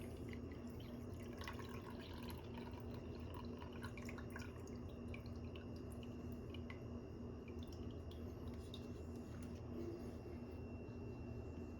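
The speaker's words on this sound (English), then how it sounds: "I imagine there's probably some more water in here, so I'm going to dump it out." Leftover water from a KitchenAid dishwasher is poured out during a filter and circulation pump repair, a steady close trickle with scattered drips and splashes and no talk.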